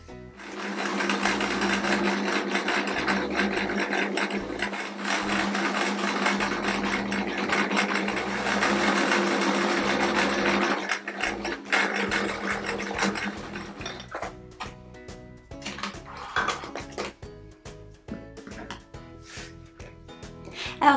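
Sewing machine stitching a patchwork quilt patch with blue thread, a steady close mechanical whir for about eleven seconds, then slower, uneven stitching runs with pauses and clicks.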